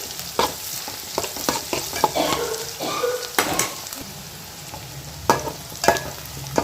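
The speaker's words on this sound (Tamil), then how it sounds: "இப்போ இந்த வெங்காயம் பூண்டு மிளகாய் எல்லாம் சேர்ந்து நல்லா வதங்கணும்" Onion, garlic and chili sautéing in a pan for a Tamil tamarind curry, with a steady sizzle broken by repeated clattering scrapes of a spoon stirring against the metal, close and fairly loud.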